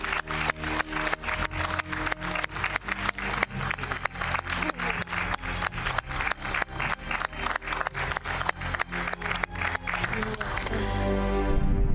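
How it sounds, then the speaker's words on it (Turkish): Studio audience applause on a Turkish daytime TV talk show, a steady, dense burst of clapping that runs for about twelve seconds at even strength before swelling slightly at the end. "Hadi kocaman bir alkış lütfen."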